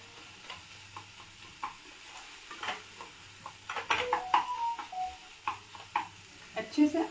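Water chestnuts frying in a pan for kachri: a quiet sizzle broken by frequent scrapes and clicks of a spoon stirring against the metal, growing busier partway through.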